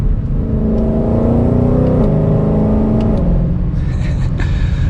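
A 2021 Ford Mustang Shelby GT500 accelerates while driving, its engine droning loud and close from inside the car, the pitch climbing through gears with a brief dip at a shift.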